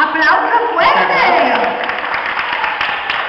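Children and an audience applaud at a Three Kings Day activity, a loud burst of clapping and excited voices that tapers into lighter, scattered claps.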